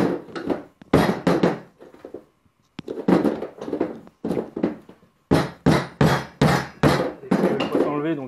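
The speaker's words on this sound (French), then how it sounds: "Donc un petit coup de marteau, ça les décolle." A hammer strikes lead carp fishing weights to knock them apart, a series of sharp, loud, close metallic taps in irregular bursts, with several quick blows in succession.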